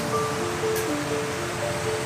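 Fast-flowing water rushes steadily at a bathing spot by a campsite in the Orang Asli village of Sungai Lemoi, Cameron Highlands, a continuous close, broadband wash with no pauses.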